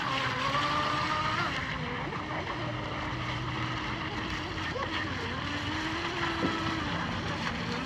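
A J&R Marine H15 electric RC hydroplane runs on choppy water, giving a steady high whine with wavering pitch against constant wind and water noise, held at a moderate distance throughout.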